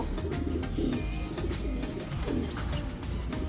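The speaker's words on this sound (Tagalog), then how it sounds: "Ganda ni Tangkad, laki. Laking ibon." A large bird, seen at a utility pole in Del Gallego, Quezon, gives low soft cooing calls close by, without speech, over steady outdoor background noise.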